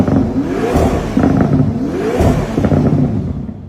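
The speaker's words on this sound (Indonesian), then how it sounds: "suara mesin V8-nya yang luar biasa" A Toyota GR GT V8 engine revs hard, loud and close, its pitch sweeping up and down in repeated surges with a throaty, rising whine.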